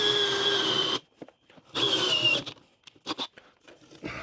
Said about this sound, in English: Pains me to drill that, but I got to do it.